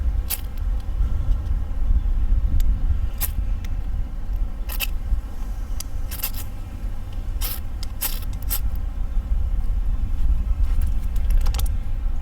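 Repeated sharp scraping strikes of a PROCAMPTEK ferro rod fire starter being pulled back against a blade, irregular bursts spread across a steady low outdoor rumble with no talking.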